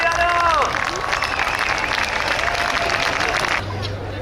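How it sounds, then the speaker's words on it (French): A large outdoor crowd at the 50th Coupe Icare paragliding festival in Saint-Hilaire-du-Touvet claps and cheers for a pilot's takeoff display, sustained loud applause with a voice calling over it and chirping whistles, then fading. "Allez, on l'applaudit très fort là"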